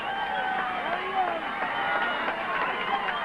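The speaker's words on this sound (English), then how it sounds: "you can hear the pandemonium that has resulted" Pandemonium among a packed crowd at Senator Robert F. Kennedy's campaign headquarters on a 1968 victory night: a dense, continuous roar of overlapping shouting and cheering voices, close and loud, with no single voice standing out.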